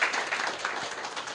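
A church congregation applauds, a dense wash of many hands clapping at moderate distance, continuous and fairly even for a short burst before easing slightly.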